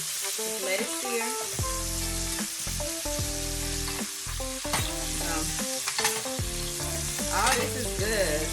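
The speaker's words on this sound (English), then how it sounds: "I'm gonna sear the opposite side as well, and let that sear to pretty brown." T-bone steak sears in a hot pan with a steady, loud sizzle, while stirring and clinking sounds and musical tones run underneath throughout.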